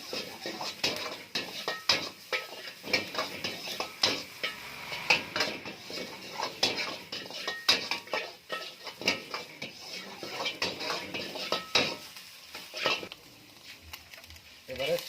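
Onion, garlic and green chilli get stirred in a pan for chicken noodles, with a spatula scraping and knocking the metal in a fairly constant, busy rhythm of close clinks over a faint sizzle.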